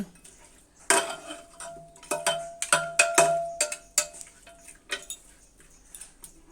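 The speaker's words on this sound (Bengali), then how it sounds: "আবারও আমি আলু দিয়ে ভালোভাবে মাংসটা মেখে নিব।" Goat meat being mixed by hand with fried potatoes in a metal pot, giving a run of irregular clanks, taps and scrapes up close, with no talking.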